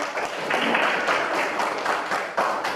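Classroom audience in a counseling session on drug-abuse dangers clapping together, a dense, steady burst of many hands that carries on for a few seconds at moderate loudness.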